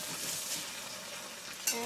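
A tortilla fries in extra virgin olive oil in a pan with a close, continuous sizzle and crackle, with a brief stir or clink near the end.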